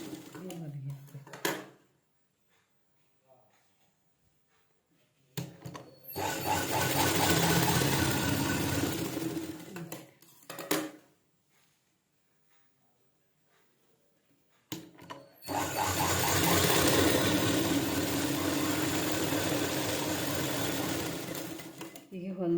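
A sewing machine runs in two long loud bursts while stitching a blouse lining at the shoulder, with brief pauses and someone speaking between the runs.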